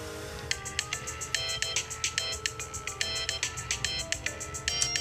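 A phone ringtone plays on its own, a bright repeating electronic melody of quick pulsing notes, fairly close and clear against a quiet background.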